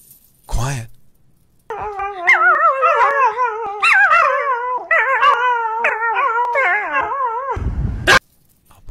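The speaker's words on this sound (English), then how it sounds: "Bad dog. Try again. Quiet, puppy." A dog lets out a long, wavering howl mixed with sharp yips and barks, loud and close, with a brief bark at the start and a short burst of noise at the end.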